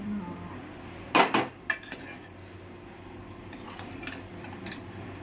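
Grated carrot halwa is stirred in a pan, with a loud burst of metal scraping and clinking near the start, then softer scattered spoon-on-pan clinks.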